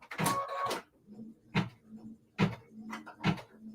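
An embroidery machine stitches a Kimberbell winter tree quilt block, producing rhythmic bursts of mechanical whirring and clacking with short pauses between, faint and close by.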